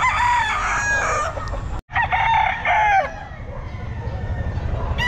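Roosters crowing loud and close at a bustling pet market, several long cock-a-doodle-doo calls with clucking between them, against a low crowd murmur; a voice is faintly present.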